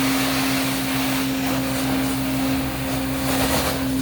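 A commercial carpet cleaning machine making dry extraction strokes, a loud steady vacuum-like roar with a constant whine, close and unbroken throughout.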